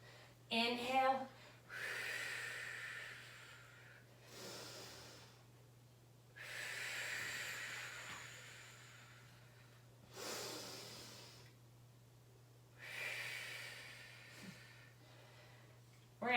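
Slow, controlled breathing during a full-body strength workout, with five or six quiet breaths coming at even intervals. The breaths rise and fade over a constant low electrical hum.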